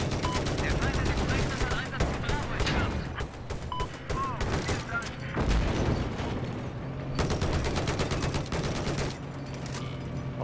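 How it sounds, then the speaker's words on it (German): Rapid bursts of automatic gunfire in the video game Battlefield 4, loud and repeated throughout with short pauses between volleys, a voice talking over the shooting. "wir können ein bisschen schießen"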